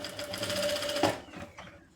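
A sewing machine stitches a blouse patch, running in a fast steady mechanical whir close by, then slowing and stopping near the end.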